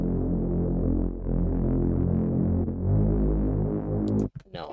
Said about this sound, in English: We have the Reese and the ARP continuing.